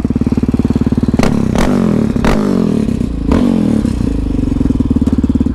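A warmed-up Yamaha Raptor 700 ATV on Maxxis snow tires idles close by with a fast, loud, even thumping putter, a few sharp clattering bursts breaking through the rhythm.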